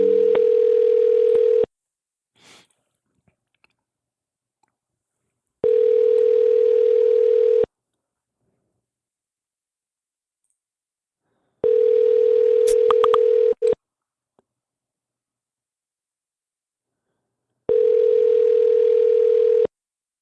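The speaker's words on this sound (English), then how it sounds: "can you guys hear the air call ringing?" An Aircall phone call rings out as four evenly spaced, steady electronic ring bursts of about two seconds each, separated by long silent gaps, with no talking.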